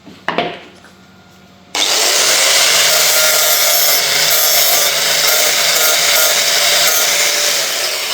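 A broken wheel peg from a Kärcher K5.85 pressure washer is ground straight on an abrasive wheel, a brief scrape and clatter followed by a loud, steady, close grinding whine that runs to the end.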